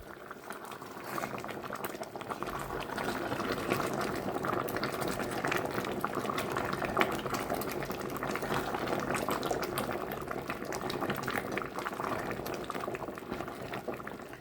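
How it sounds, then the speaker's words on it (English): Homemade fig jam from backyard figs bubbling and boiling uncovered in a pot as it cooks down, a steady dense simmering burble that holds at an even level throughout with no talk. "now we're just gonna let it boil, cook, and reduce without the lid"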